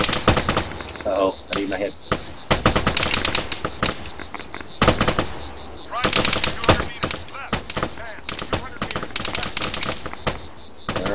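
ARMA 3 combat patrol gunfire: dense, loud bursts of automatic weapon fire and single rifle shots rattle almost continuously, with players talking briefly over the shooting.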